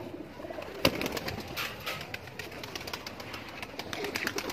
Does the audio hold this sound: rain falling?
no